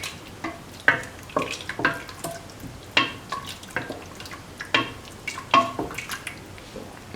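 A pan of bell pepper, tomato and coconut milk stew is stirred, giving faint, regular wet scrapes and soft splashes roughly every half second against a quiet sizzle.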